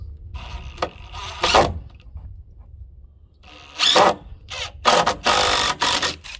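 Short bursts of a power drill driving screws with a worn bit, whirring, a brief buzz, then a pause, followed by several longer runs close by with no talking.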